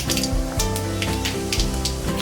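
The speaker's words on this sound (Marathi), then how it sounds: "जिरं घालूया" Cumin and mustard seeds sizzle in hot oil in a kadhai on a gas stove, a steady close crackle with sharp spitting pops throughout, no voices.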